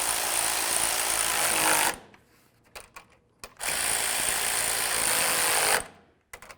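An impact driver or power ratchet tightens grille bolts on a fourth-generation Ford F350 in two loud, close bursts of about two seconds each, separated by quiet clicks and handling noises.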